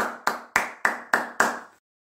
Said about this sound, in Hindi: ताली आ जाए।